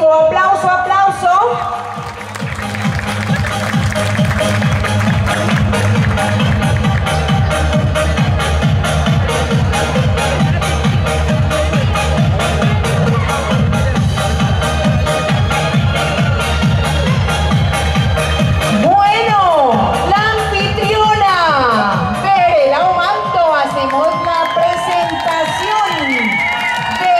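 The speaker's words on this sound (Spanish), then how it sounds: "Fuerte el aplauso." An audience claps and cheers continuously at a village beauty pageant while an announcer talks over a loudspeaker throughout.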